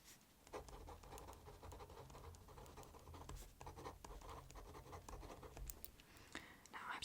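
Pen scratching steadily across paper at close range, continuous scritchy strokes with brief pauses over several seconds, with soft whispered speech faintly underneath.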